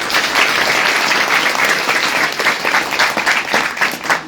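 A school quiz audience at Himachal Utsav 2025 in Shimla applauds a correct answer, loud, continuous clapping from many hands that holds strong for several seconds.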